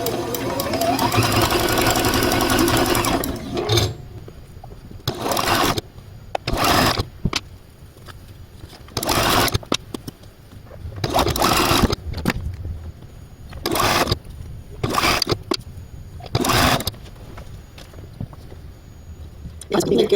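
A sewing machine stitching stitch-and-flip quilt corners runs steadily for a few seconds, then stops and starts in a string of short, close bursts.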